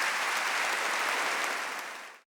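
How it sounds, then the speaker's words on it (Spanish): A whole church congregation at a Bible study applauds, a dense, even roar of clapping that holds steady and then cuts off abruptly. "Pónganse de pie, que toda la iglesia los aplauda"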